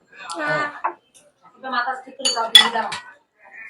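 Spoons clinking against dishes while soup and noodles are served at home, a few bright metallic clinks and taps in short bursts between voices, one of them a child's, talking nearby.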